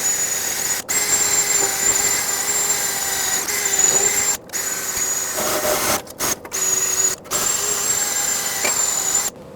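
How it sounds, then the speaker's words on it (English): Wire wheel on a power tool scrubbing rust off the exhaust pipe flange of a 2009-2010 Ford F-150 catalytic converter pipe, a steady loud whirring grind with a high squeal, broken by several short pauses. "cleaning this up with a wire wheel"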